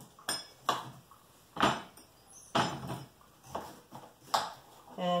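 A knife chops through a large beet on a cutting board, about nine separate thuds with sharp knocks spaced irregularly, close and fairly loud, with quiet pauses between cuts.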